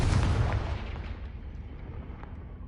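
A Confringo fire spell blast from a Harry Potter video game, a loud booming burst that opens the clip and then decays into a rumbling fiery tail.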